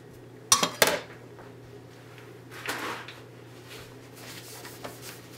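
No-knead pizza dough is stirred in a bowl with a wooden stick, giving a few sharp knocks and clinks against the bowl, then softer scraping and light taps, close and fairly quiet.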